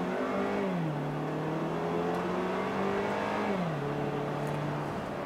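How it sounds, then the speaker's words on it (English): A 2017 Buick Envision 2.0T all-wheel-drive SUV accelerating hard with traction control off, its engine drone climbing steadily and dropping at a gear shift before rising again, heard from inside the cabin. "Turn off the traction control. Let's see if I can get the tires to spin out."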